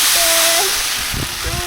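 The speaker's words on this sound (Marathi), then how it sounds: "ह्या बघा सगळ्या अशा मिरच्या ह्या अशा काढून आता भाजून घेतो." Dried red chillies roast in a pan while a traditional Konkani homemade masala is prepared, giving a steady close sizzling hiss with a voice speaking briefly over it.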